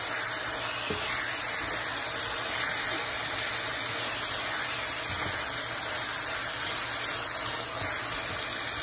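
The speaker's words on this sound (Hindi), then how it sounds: "अब इनको थोड़ी देर भूनेंगे।" Chicken keema with garam masala and green chillies frying in a pan, giving a loud continuous broadband hiss and sizzle with a few faint scraping ticks, steady throughout and without speech.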